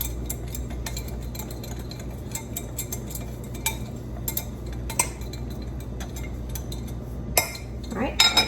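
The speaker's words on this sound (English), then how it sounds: "Let me mix this to get any lumps out." Spoon clinking and scraping in a bowl while dry cocoa powder is stirred to break up lumps, a steady run of light metallic taps over a low hum, with a few sharper clinks near the end.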